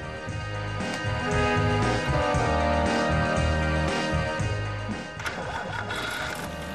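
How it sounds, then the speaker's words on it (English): The 1.3-liter motor of a vintage 1934 Mercedes 130 runs with a quick, even mechanical chatter and a low throb, steady and close throughout with no voices. "The motor is still astonishingly quiet."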